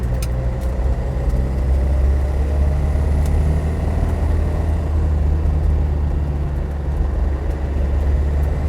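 A classic Land Rover Defender 90 soft top drives on a gravel road, its engine giving a loud, steady low drone with road rumble, close and continuous through the gear changes.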